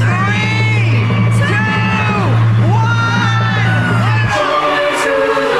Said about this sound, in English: A huge crowd watched as they flipped the switch to light up the giant tree in Rockefeller Center